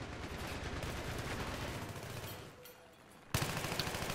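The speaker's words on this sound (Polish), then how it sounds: "O, no widzicie jak ja strzelam." Battlefield 3 gunfire crackles in fast, dense bursts that ease off briefly and then return with a sharp, loud shot, the noise continuing alone with no voices over it.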